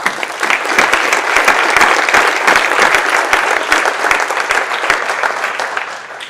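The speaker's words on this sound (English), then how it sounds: "So a little round of applause for them." Loud, dense applause from a room of school staff at a professional development day, sustained evenly across the whole stretch with no talk over it.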